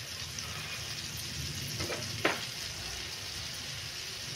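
Butter and oil sizzle in a frying pan, a faint, even, steady hiss with one brief clink partway through.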